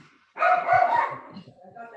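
A dog gives one close, loud bark followed by a softer whine during an online meeting, standing out against near silence.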